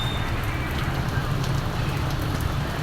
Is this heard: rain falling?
yes